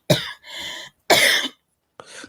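Several harsh coughs from an audience member during a stand-up comedy show, four separate bursts of about half a second each, loud and close, with no talk over them.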